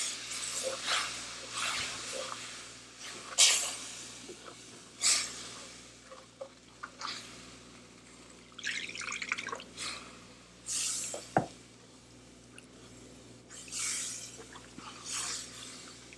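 Two cups of hot water go into a roux in a cooking pot. The result is a series of soft splashes, drips and wet squishing sounds, close and fairly quiet, in irregular bursts.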